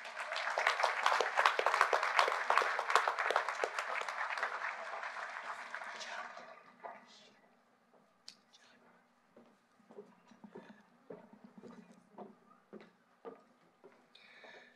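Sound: graduation audience applauding top graduates

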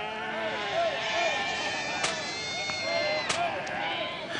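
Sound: sheep bleating on the Patagonian steppe

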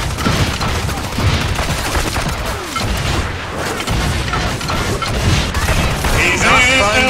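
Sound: rapid gunfire in Evolve video game

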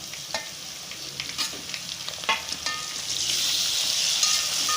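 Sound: tomatoes added to frying onions

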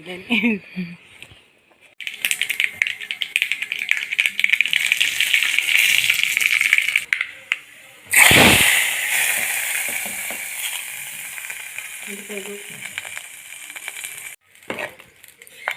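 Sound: frying mustard seeds and curry leaves for sambar tempering

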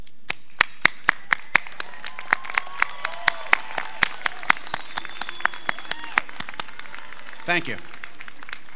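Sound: graduates applauding family and friends at ceremony

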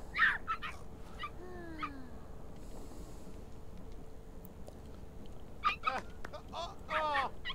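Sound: dogs whimpering and yipping in The Sims 3 video game

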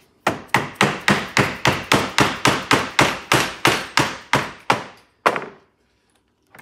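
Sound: hammering in a spreader anchor

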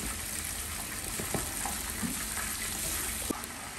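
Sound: sautéing shallots and garlic in a pan

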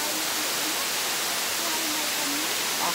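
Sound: waterfall

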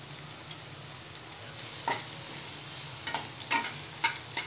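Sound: onions frying with chillies in pan

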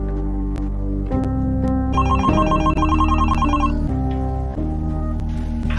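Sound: mobile phone ringing

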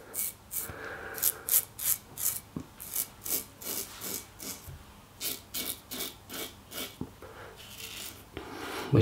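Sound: Parker 65R safety razor with Gillette Winner blade shaving

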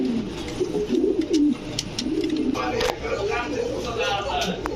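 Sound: pigeons cooing at a pigeon farm

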